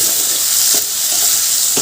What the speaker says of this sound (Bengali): এরকম হালকাভাবেই ভাজাটা হবে